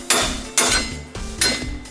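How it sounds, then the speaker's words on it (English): Four sharp, ringing hammer blows strike the metal of a Dodge Stratus CV axle hub, close and loud, at a roughly even rhythm about half a second apart, each with a short metallic decay. "now again with the hammer you need to hit on the"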